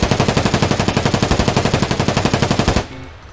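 Mk 47 rifle in Escape from Tarkov firing one sustained full-auto burst of rapid, evenly spaced, loud shots for almost three seconds, then cutting off abruptly into quiet.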